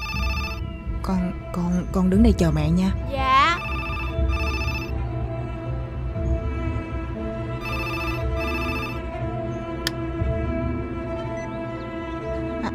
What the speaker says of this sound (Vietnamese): sao máy điện thoại reo mà mẹ không chịu bắt máy?